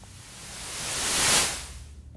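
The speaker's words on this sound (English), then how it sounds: "we'll start off with the white noise on the level" A white noise sweep from the Vital synthesizer rises steadily in brightness and level, peaks near the middle, then falls away quickly. It plays alone with no voices, a smooth hissing swell like a build-up transition.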